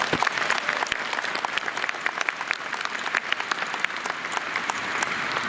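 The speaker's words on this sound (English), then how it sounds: "Please join me in giving them a big round of applause." Graduation ceremony audience gives a big round of applause, dense, even clapping from a large crowd sustained steadily throughout.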